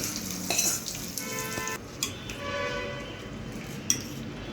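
A spoon stirs a hot tempering into cucumber and curd chutney, with a wet sizzle, soft mixing swishes and a few sharp clinks against the bowl, close up.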